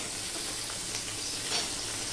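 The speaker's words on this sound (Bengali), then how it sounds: "এবার দিয়ে দিচ্ছি পেঁয়াজ টুকরো" Onion pieces fry with garlic in a hot pan, a steady close sizzling hiss that continues evenly throughout with no voices.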